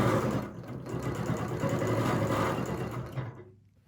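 Sewing machine stitching a quilt, running steadily with a fast mechanical chatter for about three seconds before stopping, close and alone.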